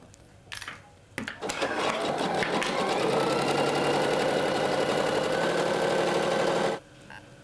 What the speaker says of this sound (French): on fera un tout petit surjet que vous pouvez faire soit à la machine